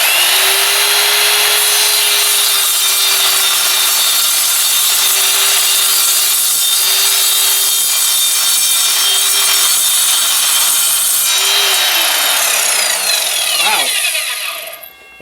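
An Evolution R185 7-1/4 inch sliding miter saw slowly cutting through wood, a loud steady high whine with a grinding bite that lasts about fourteen seconds, then spins down and fades as the cut finishes, with no talking.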